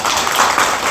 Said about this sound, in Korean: 박수 크게 치셔도 되는데.